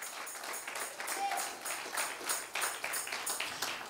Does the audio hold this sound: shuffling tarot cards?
no